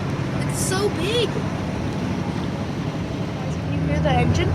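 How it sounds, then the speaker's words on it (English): A large ferry's engine rumbles low and steady as the vessel departs, with wind buffeting the microphone and people talking over it. "can you hear the engine?"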